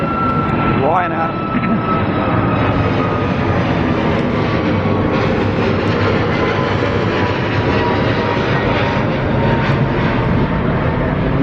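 Ryanair jet aircraft at London Gatwick Airport, a continuous broadband engine roar holding strong and even for over ten seconds, with a faint whine and a short rising sweep near the start.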